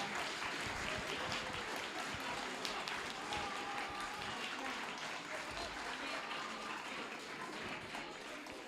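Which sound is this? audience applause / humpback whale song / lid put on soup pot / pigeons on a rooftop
audience applause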